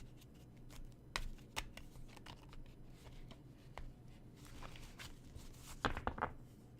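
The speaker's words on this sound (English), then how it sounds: "I'm shuffling your cards." Tarot cards being shuffled by hand during a live reading, a run of soft riffling flicks and sharper snaps that cluster into a louder burst near the end, over a low steady hum with no talking.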